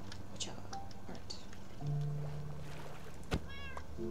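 Minecraft cat meowing in short, bright calls spread through the clip, including a rising and falling meow near the end, over a low steady game hum and scattered small clicks.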